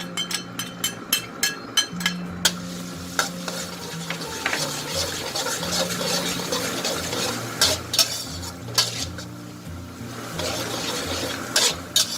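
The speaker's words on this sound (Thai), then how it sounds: "รอให้น้ำมันร้อนค่ะ แล้วใส่กระเทียมไปเลยค่ะ" Garlic sizzles and crackles in hot oil in a wok while a spatula scrapes and taps against the pan in an uneven rhythm, close by.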